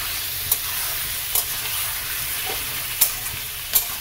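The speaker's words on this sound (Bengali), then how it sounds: "এবার চিকেনটাকে আমাকে ভালো করে ভেজে নিতে হবে।" Chicken pieces fry in a pan over a gas flame, a constant sizzling hiss with a few sharp scraping clicks from stirring at irregular intervals, close and steady with no talk.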